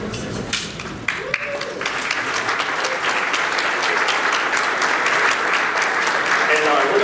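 Luncheon audience applauding senior players of the men's and women's tennis programs; a few separate claps at first, then full sustained clapping that swells and holds loud and dense to the end.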